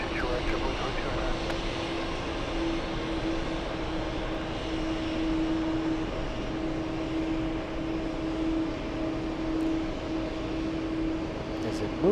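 JetBlue jet airliner engines running at the airport beside the TWA Hotel, a continuous distant whine and low drone that holds steady throughout, with faint voices underneath.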